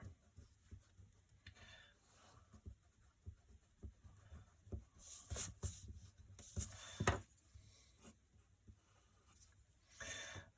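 A colouring pencil scratches across paper while drawing a tulip, faint close strokes and light taps in irregular bursts, with louder scribbling flurries in the middle and at the end.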